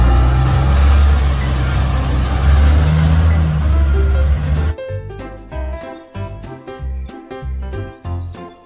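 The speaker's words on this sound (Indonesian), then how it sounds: "Mobil, truk, tambang." A heavy, rumbling engine drone with a low growl, a toy mining truck sound effect, holds steady for several seconds before cutting into an upbeat jingle with punchy beats.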